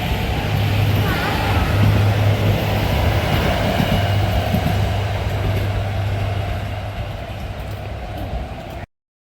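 A train rolls past on the tracks nearby, a loud continuous rumble with a low droning tone, slowly fading before cutting off.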